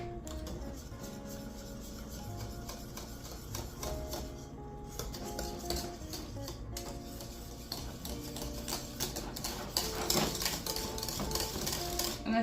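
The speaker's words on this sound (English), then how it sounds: "And we're immediately gonna whisk." Eggs whisked briskly in a bowl off the heat for a lemon meringue pie filling: a steady, rapid clatter of the whisk against the bowl runs throughout at moderate level, growing slightly louder toward the end.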